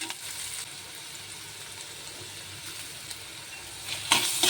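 Onion with garlic paste sizzles steadily in a hot pan, a continuous frying hiss with occasional scrapes of stirring, rising near the end as the mixture is moved.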